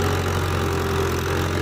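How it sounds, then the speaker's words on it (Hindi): A Mahindra tractor hauling sand idles while stuck in a pit by a river, its engine giving a steady, close, continuous low hum with no voices over it. "खाड़े के अंदर फंसा हुआ ट्रैक्टर है गाइस।"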